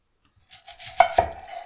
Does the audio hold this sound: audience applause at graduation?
no